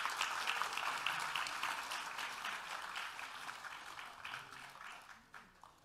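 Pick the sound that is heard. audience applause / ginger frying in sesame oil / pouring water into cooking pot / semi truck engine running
audience applause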